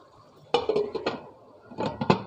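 A lid goes onto a pot of chicken simmering for green chicken karahi, with two bursts of metallic clanks and rattles from the cookware, close and fairly loud.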